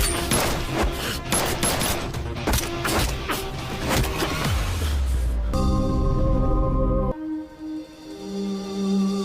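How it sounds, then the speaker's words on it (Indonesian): Rapid bursts of gunfire crackle over a busy, loud scene, then give way to a lower rumbling drone and sustained tones. "Tanpa sadar jika tembakan yang mereka buat tak sengaja mengenai mantan istrinya Lin."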